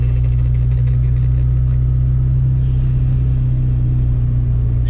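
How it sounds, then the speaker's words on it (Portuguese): Chevette car engine droning steadily and loudly at close range while accelerating, a heavy low rumble with a constant mechanical hum and no voices over it. "Parece que o motor tá se desmontando, velho."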